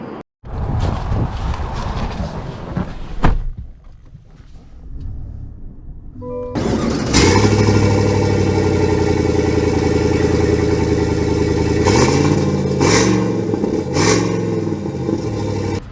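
A 2023 Chevy Silverado 1500 LTZ starts with a brief crank and clatter, settles into a loud idle, then revs up several times in distinct surges close by.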